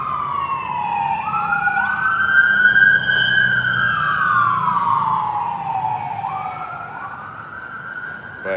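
A wailing ambulance siren rises and falls in long sweeping tones on a street near a hospital, steady and fairly loud over a low rumble of traffic, with no talking.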